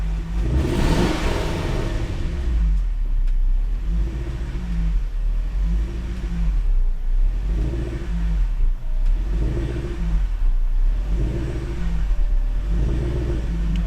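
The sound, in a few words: supercharged Range Rover engine idling and revving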